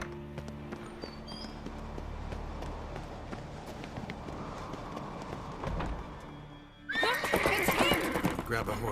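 A horse whinnies loudly near the end of a Witcher 3 chase scene, following a stretch of galloping hooves and rumbling background action.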